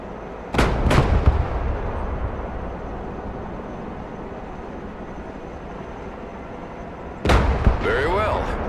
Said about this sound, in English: Shoot that target, Gunner.